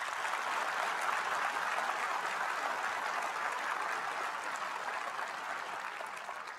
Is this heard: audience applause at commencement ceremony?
yes